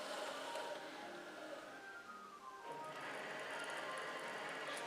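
A Cricut machine cuts a paper Thanksgiving place card, giving off a steady mechanical whir that shifts in pitch partway through as the carriage changes direction, close and continuous with no talk.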